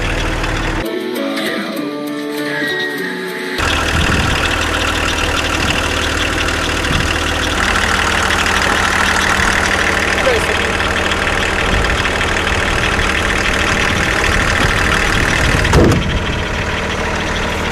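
Car engine idling before driving off, a steady, close mechanical hum with a rough low rumble that continues under occasional background sounds for the whole stretch, beginning with a brief burst of other noise.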